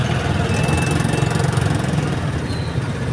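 Vehicle engines idle in road traffic, a steady low rumble with a faint rhythmic knock running continuously and fairly close.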